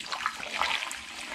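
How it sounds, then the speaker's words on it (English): Melted fruit pastille sweets and honey being poured into a demijohn for hard cider; a brief, close, bubbly liquid pour with gurgling trickles, quiet and alone. "I'm going to now pour this into my Demijohn"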